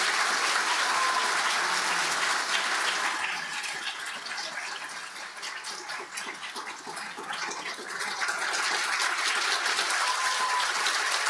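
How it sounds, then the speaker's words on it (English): Children in an audience clap for a storybook reading at a children's laureate announcement. The applause is steady and sustained, dips slightly midway, then swells again. "Big clap for the ants."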